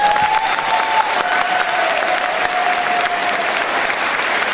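Sustained audience applause at a live concert debut, dense and steady clapping from a large crowd filling the whole stretch without pause.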